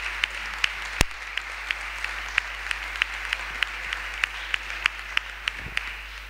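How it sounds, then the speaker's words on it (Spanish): Audience applause at a Partido Aragonés municipal election candidacy presentation, a steady crowd clapping with sharper individual claps standing out over a constant low hum, no voices heard. "Le damos un aplauso también, si os parece."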